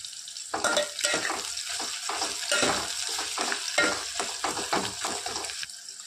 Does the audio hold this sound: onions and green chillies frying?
yes